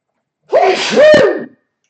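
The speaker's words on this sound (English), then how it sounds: "I'm gonna sneeze." A single loud, close sneeze with a sharp intake and explosive burst, followed by silence.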